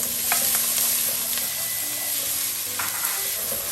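Chopped onion and celery frying in a pot for a fish stew, a loud steady sizzle with faint clinks of stirring, close and unbroken throughout.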